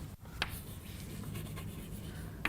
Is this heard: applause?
no